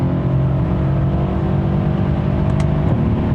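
Mercedes-Benz E 63 S AMG under acceleration, a loud, steady engine roar heard from inside with a rising tone and a brief shift near the end.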